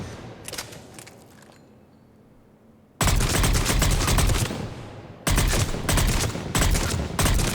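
Valkyrie assault rifle fire in Mass Effect 3: quiet scattered shots, then two long loud bursts of rapid automatic fire separated by a brief pause.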